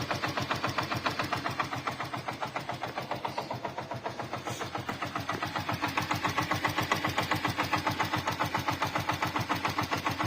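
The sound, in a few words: Hero Glamour motorcycle engine running with abnormal noise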